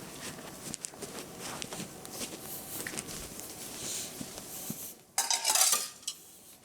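Plates, pots and cutlery clink and scrape in the Bigg Boss house kitchen, a steady quiet clatter building to a louder burst of dish noise near the end.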